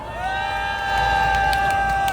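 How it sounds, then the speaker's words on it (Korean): A crowd at a candlelight protest rally cheers and whoops, with sustained voices holding long shouted tones over a steady background roar that swells slightly midway. "정은주 사무처장님께 다시 한번 큰 박수 부탁드립니다"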